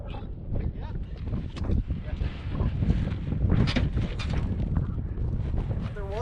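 Strong, cold wind of about 25 miles an hour gusts steadily across the microphone outdoors, a continuous rushing roar that swells in the middle, with faint voices underneath.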